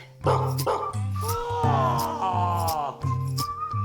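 A dog barks repeatedly at close range, short yapping barks in an uneven rhythm over a steady musical backing, with a high whiny voice-like tone in between.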